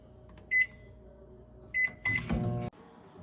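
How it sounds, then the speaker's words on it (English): Microwave oven softening two sticks of butter in a bowl: a low steady hum with short electronic beeps near the start and middle, then a brief louder burst of clatter as the door opens, close and moderately loud. "put your 2 sticks of butter in one bowl and throw it in the microwave for about 10"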